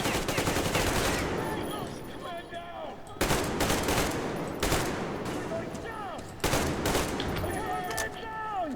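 Bursts of automatic gunfire and rapid shots crackle through a firefight in the video game Metro Exodus, coming in dense volleys with short pauses between them, while voices are heard under the shooting.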